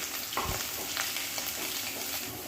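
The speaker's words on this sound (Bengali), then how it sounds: "পেঁয়াজ কুচিগুলোকে এবার ভালো করে ভেজে নিচ্ছি" Chopped onions frying in mustard oil for a kochu shak dish, with a steady close sizzle and occasional soft stirring scrapes.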